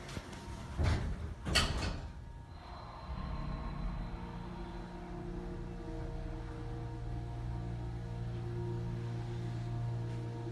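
Otis Series 1 hydraulic elevator door from 2004 at a strip mall closing: two sharp nearby clunks, then a steady low mechanical hum continues alone.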